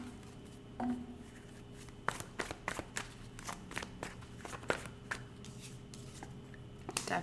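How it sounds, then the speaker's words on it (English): Tarot cards being shuffled by hand, a soft papery riffle and slap repeating in quick irregular bursts, close and fairly quiet against a low room hum, with no talking. "Last shuffle for my Pisces this weekend."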